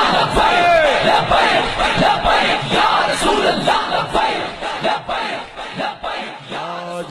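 A large crowd chants a religious slogan in loud, rhythmic unison, voices rising and falling in repeated waves that fill the whole stretch.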